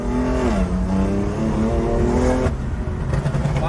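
A BMW M2 fitted with an M4 engine pulls hard under acceleration, its loud, steady engine drone rising smoothly in pitch before a shift and climbing again.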